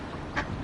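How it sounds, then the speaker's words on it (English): Two short, nasal duck quacks sound close together at a pond, brief and moderately loud over a soft outdoor background. "See those ducks actually getting the colours on their necks here"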